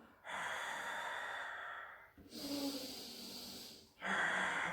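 Deep, audible breaths during a Pilates exercise: a long exhale, then an inhale, then another exhale, close and steady with no talk.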